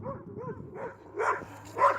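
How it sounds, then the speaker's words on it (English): Dogs bark outdoors in a quick series of short yips and barks, moderately close and fairly soft, with a couple of louder barks toward the end. "Dogs out here."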